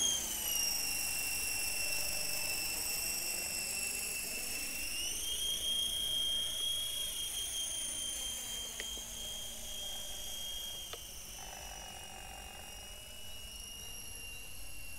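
A cheap AliExpress toy RC helicopter takes off and flies, its small electric rotor whining in a high steady drone that rises in pitch, with a couple of faint clicks, heard close and alone.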